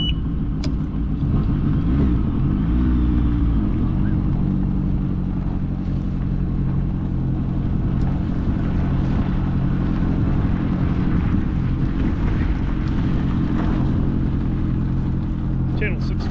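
A Gibbs Quadski amphibious vehicle gets underway on water, its engine droning steadily and loudly throughout with a rising whine near the start, while a person talks over the motor.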